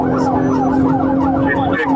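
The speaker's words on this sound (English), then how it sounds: "he's coming with the lights flashing and all the siren and stuff" A police car siren wails in repeated sweeping cycles, loud and close, with an engine rumbling under it as the patrol car drives with lights flashing.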